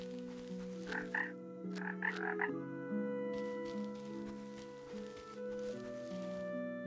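Frogs croaking in the island adventure video game Ikonei Island, a string of pulsing croaks over a sustained tonal musical background, no speech heard.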